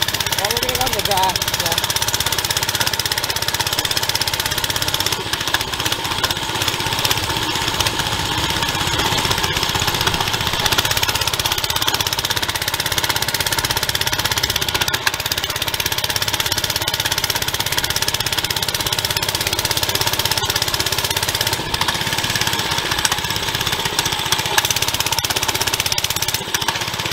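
A Baja 97cc mini bike engine runs after its carburetor is cleaned, a loud, steady, buzzing drone that holds without a break for nearly half a minute.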